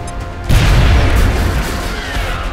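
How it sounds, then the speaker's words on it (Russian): A loud grenade blast erupts in the XCOM video game after a brief quiet lead-in, its booming, broadband burst sustaining with crackling debris for about two seconds. "Граната пошла!"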